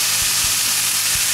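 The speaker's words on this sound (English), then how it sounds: "we want it to sear nicely" Venison backstraps sear in a hot pan, a steady close frying sizzle and hiss with a few soft low knocks from the meat settling, no voices.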